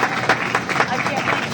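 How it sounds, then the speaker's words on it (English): Audience clapping and applause at a lively gathering, a steady dense patter of many hands filling the space without pause, close and moderately loud, with crowd voices mixed in. "Give yourself an applause."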